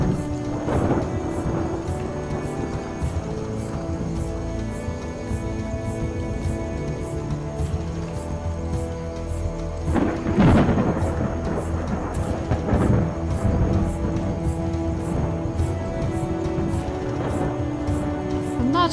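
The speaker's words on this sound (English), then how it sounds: "I feel worse being in a thunderstorm." A thunderstorm with steady rain in a game set on open plains, heavy rainfall hissing continuously while rolling thunder rumbles in several swells, loudest around the middle.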